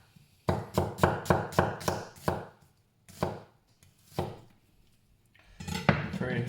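Knife chopping onions on a cutting board for caramelizing: a quick run of about eight sharp close chops, then a few slower single strikes and a final burst of cutting.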